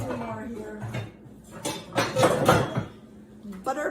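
Frying pans, including a small one, clatter and clink as they are handled, with metallic knocks and scrapes in several bursts while a person talks nearby.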